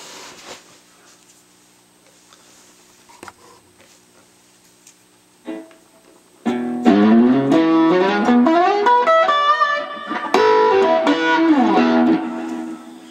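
Near silence with a few faint taps, then an electric guitar through a Dr. Distorto distortion pedal plays a run of ringing notes and chords.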